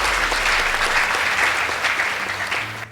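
An audience applauding a secondary school debate team after scores are announced, a steady, dense wash of many hands clapping close by that tapers slightly at the end.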